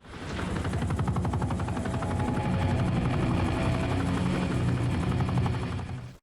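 Helicopter in the Modern Warfare video game: a loud, close, steady rotor thump that rises in and holds for several seconds with a fast rhythmic chop, no voices.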